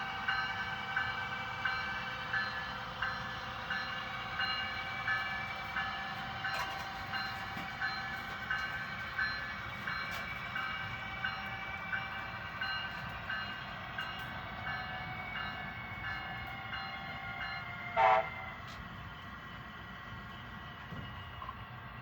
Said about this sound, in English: Now arriving on track 1, southbound train 183.